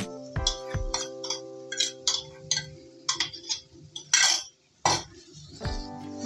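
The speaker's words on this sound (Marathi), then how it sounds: "मसूरची डाळ चांगली मिक्स करून घेऊया।" A spoon stirs masoor dal in a pan with chilli powder, making repeated clinks and scraping taps at an irregular pace, close and fairly loud, with some faint tonal background hum and no talk.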